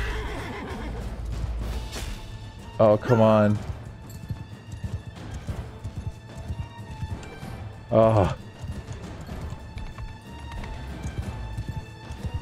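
Horses in the Mount and Blade Bannerlord video game gallop with steady clip-clop hoofbeats while two loud whinnies ring out, alongside battle noise, and someone speaks a few short exclamations over it.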